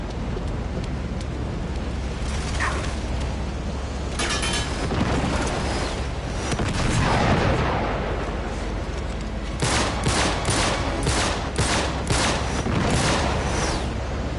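Rocket fire and explosions in Uncharted 3: Drake's Deception, with a dense roar of battle noise and repeated sharp blasts bunching together toward the end, loud and continuous.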